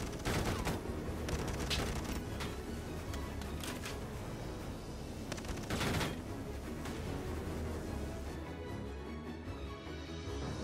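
Gunfire in a video game fired at point-blank range, with every shot hitting: a rapid, sustained volley of sharp, loud shots that crackle densely over a rumbling bed.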